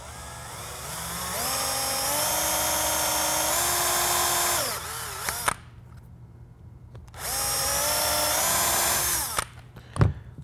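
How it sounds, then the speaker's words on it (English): A power drill with a Forstner bit whines through foam in two sustained bursts, pitch climbing as it bites, separated by a short pause and ending with a clunk. "To drill it, I've just got a Forstner bit here and I'm gonna go all the way through."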